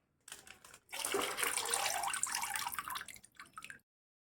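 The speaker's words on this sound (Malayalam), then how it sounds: "ഇത് നമുക്ക് ഈ നാല് ലിറ്റർ വെള്ളത്തിലേക്ക് ഒഴിച്ചു കൊടുക്കാം" Acid is poured into water in a steady splashing stream for about three seconds, close by and fairly quiet, followed by a few trailing drips.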